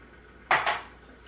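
Potatoes tipped into an ordinary pan while making Sri Lankan potato curry with thin coconut milk, landing as two quick, close clattering bursts against the metal, with no talking.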